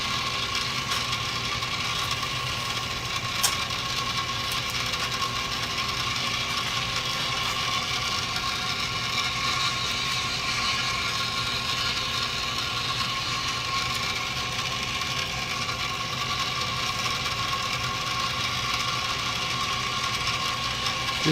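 A North Bros hand drill clicks and whirs continuously as it is cranked and spins, producing a steady, close mechanical ratcheting with gear chatter and no pauses over the whole stretch.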